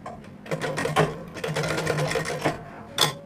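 A sewing machine stitches the zipper fly of a men's trouser in quick bursts of close mechanical whirring and rattling, with brief pauses between runs.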